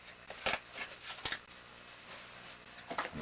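Scissors snip around a small miniature base to shape it into a circle, giving a few quiet, sharp cuts spaced irregularly over faint background noise.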